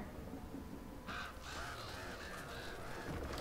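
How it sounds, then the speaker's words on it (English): Crows cawing in the video game Uncharted: Drake's Fortune, several harsh repeated caws over a dense, noisy game soundscape, moderately loud and layered with ambient rumble. "Why are there birds in there?"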